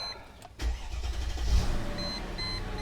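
Mercedes ML engine cranks and catches, a short starter whir followed by a steady mid-pitched idle with a faint electronic beep, close by and without talk.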